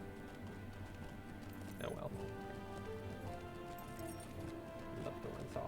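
Horse hooves clip-clopping at a steady riding pace in the online game The Lord of the Rings Online, with the game's background ambience and a player speaking briefly over it.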